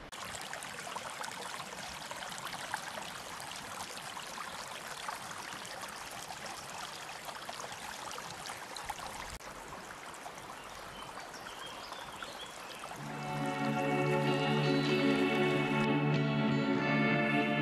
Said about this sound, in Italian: Sono meravigliosi questi ruscelli.